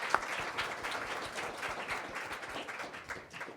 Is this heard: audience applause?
yes